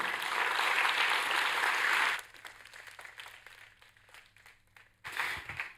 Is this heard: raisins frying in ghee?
no